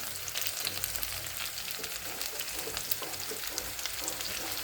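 Onion and vegetables fry in a pan, a continuous close sizzle with occasional stirring scrapes and no talk.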